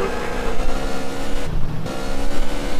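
A car engine drones steadily in GTA San Andreas, loud and close, with a continuous rumbling hum that briefly dips before picking back up.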